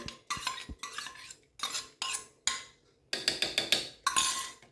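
Metal spoon clinking against a pot while stirring basmati rice in boiling milk for doodhpak, a series of sharp scraping clanks in irregular bursts with brief pauses, close and clear.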